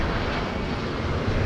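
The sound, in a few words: airliner jet engines at LAX airport runway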